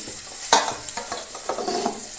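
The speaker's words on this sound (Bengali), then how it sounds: "আলুগুলো ভেজে নেব" Close, steady sizzling of potatoes frying in oil, with a few light scraping stirs and soft clinks from a spatula.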